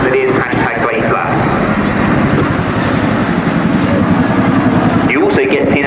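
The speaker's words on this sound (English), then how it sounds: "Watch now as the crew fly a low-level 360-degree orbit, giving you a chance to really hear the famous and fabulous sound that is #BladeSlap" A Chinook helicopter with contra-rotating blades flies a low-level orbit at an airshow, its loud, continuous rhythmic thudding blade slap and engine roar filling the air, with a voice speaking over it.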